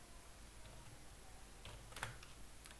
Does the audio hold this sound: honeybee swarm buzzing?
no